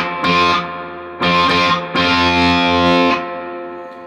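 Crunchy, distorted electric guitar chords through the crunch channel of a Marshall JCM 2000 Dual Super Lead amp with reverb, strummed in three bursts, each ringing out with a reverb tail that fades slowly after the last one.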